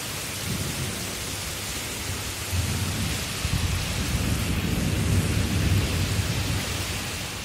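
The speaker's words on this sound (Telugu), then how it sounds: "ఈదురుగాళ్లతో కూడిన భారీ వర్షం కురిసింది" Heavy monsoon rain in Hyderabad pours steadily in a dense hiss, with low thunder rumbling underneath throughout.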